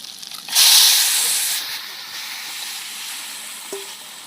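Taro poured into hot oil tempered with whole cumin and a dried chilli bursts into a loud, sharp hiss, then settles into a steady, fading sizzle.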